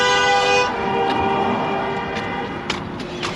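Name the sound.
car horn honking on a Los Angeles street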